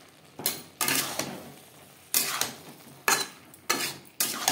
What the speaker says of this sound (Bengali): মটরশুঁটির সাথে আলু বেশ ভালো করে মিক্সড করে দেব